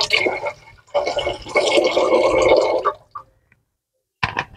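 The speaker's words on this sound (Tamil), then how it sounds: "இப்போ ஒரு 1/2 லிட்டர் தண்ணி ஊற்றிருக்கிறோம்." About half a litre of water poured into a pot for Tamil sweet pongal: a close splashing rush for a few seconds, a brief quiet pause, then another short pour.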